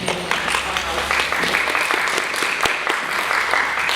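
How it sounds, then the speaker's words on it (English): A crowd at a live book presentation in Rainbow Beach breaks into steady applause, dense and loud for the full stretch, with a few whoops and voices mixed in the background. "Give her a round of applause."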